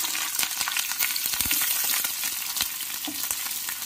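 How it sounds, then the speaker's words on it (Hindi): Garlic, onion and capsicum sizzle steadily in hot oil for chilli paneer, a dense close crackle with occasional sharper pops and stirring clinks, with no voices. "ऑयल हमारा गर्म हो गया, अब इसमें डालेंगे गार्लिक, ऑनियन,"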